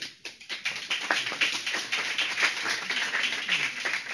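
Dense applause from an audience at an academic summit's closing session, many hands clapping steadily and fairly close, filling the whole stretch without any voices.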